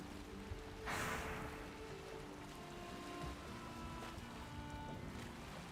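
A sailing ship glides across the open sea in the game Valheim, with a steady wash of waves and wind around the hull and a brief louder surge of water near the start.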